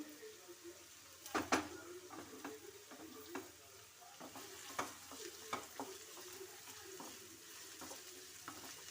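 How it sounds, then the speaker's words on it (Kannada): Chopped onions and green chillies fry in hot oil for a radish masala gravy, making a faint, low sizzle. Scattered clicks and scrapes of stirring sound throughout, a little louder near the start. "ಇದು ಸ್ವಲ್ಪ ಚೆನ್ನಾಗಿ ಫ್ರೈ ಆಗಬೇಕು"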